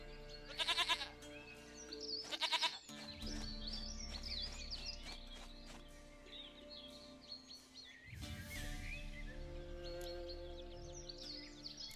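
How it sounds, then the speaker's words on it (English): Goat bleating in the video game The Witcher 3: The Wild Hunt, two loud bursts of bleats early on, then a busy backdrop of birdsong and ambient game sound. "Goat of mine, dearest, sweetest goat."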